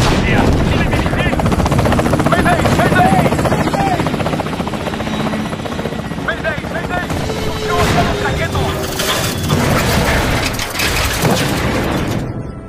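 Loud helicopter rotor thudding through a film battle scene, mixed with gunfire, booms and shouted voices in a dense, continuous wall of noise.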